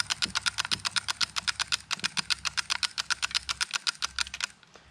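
Rapid, evenly spaced clicking from the cocking mechanism of a Wicked Ridge RDX 400 crossbow, a steady run of crisp, close ratchet clicks that continues for several seconds and then stops abruptly.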